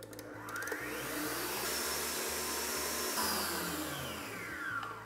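A stand mixer whisks egg yolks and sugar in its bowl, a loud steady whirring motor drone that holds for the whole stretch with no voices over it.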